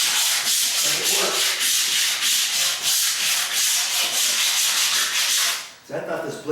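Close, loud scraping from a long-handle razor blade scraper pushed over a surface in quick repeated strokes, continuous for nearly six seconds before breaking off into a brief softer sound.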